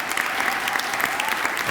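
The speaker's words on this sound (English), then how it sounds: "you should just applaud yourselves for this great opportunity" Audience applause at a school announcement of students chosen for a guaranteed education pilot program, a steady, even wash of many people clapping, close and fairly loud with no pauses.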